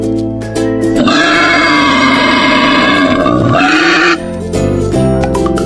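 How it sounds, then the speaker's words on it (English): A wild boar lets out one harsh, sustained squealing grunt lasting about three seconds. It is loud and close, over steady background music. "Boar"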